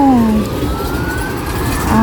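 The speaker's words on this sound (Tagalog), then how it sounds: "Ambulansya pa naman ang bumungad." An ambulance siren wails on a Hong Kong road, a loud, close, rising and falling tone over traffic rumble.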